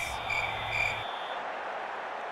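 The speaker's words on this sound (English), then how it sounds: "I've got crickets too here" Crickets chirp at night: rapid, high, repeated trills, fairly close and clear for about a second before cutting off abruptly, leaving a quiet hiss.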